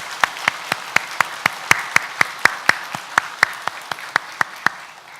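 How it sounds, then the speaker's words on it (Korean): A church congregation claps in unison, a steady rhythmic beat of about four sharp claps per second, fairly close and loud above a low murmur of room noise. "우리 감사와 영광의 박수 올려 드리도록 하겠습니다."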